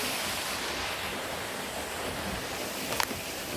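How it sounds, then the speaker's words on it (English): Rushing water from a creek and waterfall outdoors, a steady broadband roar without breaks, with one brief sharp tap near the end. "right there's the falls on top with the water coming down and everything"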